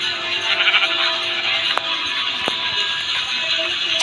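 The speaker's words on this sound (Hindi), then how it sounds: "तो फिर अब मुझे अगली भेड़ को मारना है" Sheep bleat in Minecraft survival play, a nasal, wavering bleating heard up close over a steady game background, with a couple of sharp clicks of player hits.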